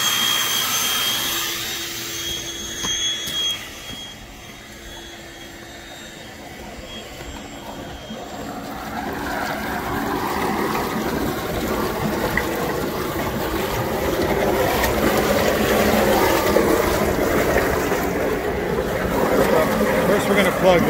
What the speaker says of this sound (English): The blower's on.